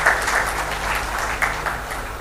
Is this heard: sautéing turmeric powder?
no